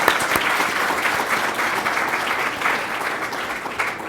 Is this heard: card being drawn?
no